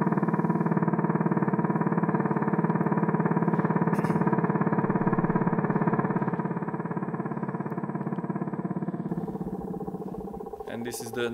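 A female leafhopper's vibrational reply signal picked up from the host plant, a long continuous buzzing, grating drone that holds steady and loud for many seconds before thinning out near the end.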